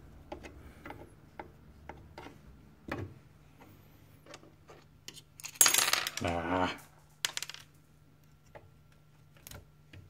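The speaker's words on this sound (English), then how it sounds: "So I'm going to go ahead and get these two screws right here" Small screws being worked loose with a ball-head driver on a Wanhao Duplicator i3 V2 3D printer: scattered light metallic ticks and clicks, with a louder scraping rattle in the middle and a low steady hum underneath.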